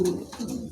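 A pair of nearly tailless pigeons offered for sale coo in soft, throaty rolls, close and fairly loud, filling the short moment without any talk.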